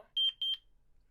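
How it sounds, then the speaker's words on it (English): An Interlogix Simon XTi alarm panel's built-in piezo gives two short, bright, high-pitched beeps in quick succession, clean and close, with silence after. "those little two beeps that you heard at the end, those are the panel piezo beeps"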